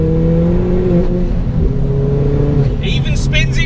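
A Ford Fiesta ST accelerates hard in third gear on a wet road, a steady loud engine drone rising in pitch, with a brief chirp of tyre or turbo noise near the end.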